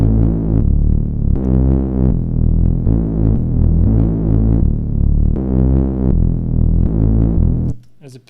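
Reese bass patch built in Xfer Serum, unison detune set to spread width only, playing a thick, buzzing low synth line in repeated held notes with slight throbbing movement, loud and alone until it cuts off near the end.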